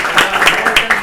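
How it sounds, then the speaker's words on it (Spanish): A classroom group of students gives a brief burst of applause, a dense patter of clapping from many hands lasting about a second. "Un aplauso para todos."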